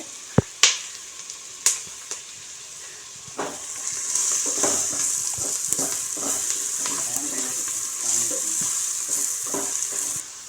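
Onions sauté in a pan for veg biryani, a continuous hiss of frying with sharp utensil clicks at the start and scattered scraping taps of stirring throughout.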